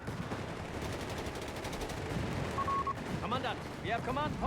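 Gunfire and explosions in Company of Heroes 3 during a Deutsches Afrikakorps versus US Forces match, with rapid rattling bursts and booming impacts under a commentator's voice, with tonal unit chatter near the end.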